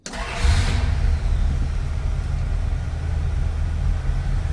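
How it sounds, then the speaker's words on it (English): A 1976 Dodge D100 pickup's 318 V8 cranks briefly and catches, settling into a loud, steady, rumbling idle up close. "Let's go ahead and fire up this 318."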